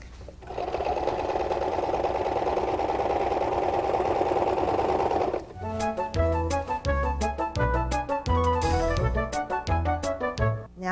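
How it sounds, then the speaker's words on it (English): Serger sewing machine trimming the selvage off drapery fabric and binding the raw edges, a loud steady whir for about five seconds, then choppy start-stop bursts of stitching. "this machine cuts it off and binds the raw edges at the same time"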